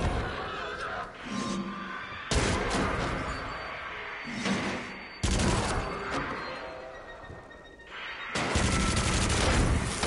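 Uzi gunfire in the video game Until Dawn: Rush of Blood comes as loud, dense bursts of rapid shots in several separate volleys with brief pauses between them.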